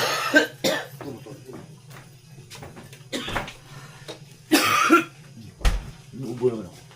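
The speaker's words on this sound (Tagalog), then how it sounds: "Inuubo naman ako." A person coughs in a few sharp bursts amid a low steady hum and scattered household knocks, with brief speech nearby.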